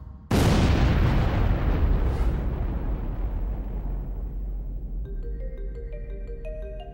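A Big Bang explosion sound effect erupts in one huge, close boom, then rolls into a long, slowly fading rumble, with shimmering musical tones rising in near the end.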